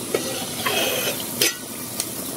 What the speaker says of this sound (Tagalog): Ayan, kumukulo na po.